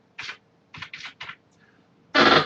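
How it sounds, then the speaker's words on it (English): Someone types a password on a computer keyboard: four quick, light key clicks, then a louder, heavier keystroke at the end, close and otherwise quiet. "If I was to type in George"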